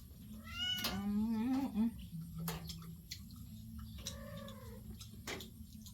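A cat meows insistently close by in a home kitchen, several wavering cries in two bursts, while a person talks alongside and small clicks and drips sound in the background.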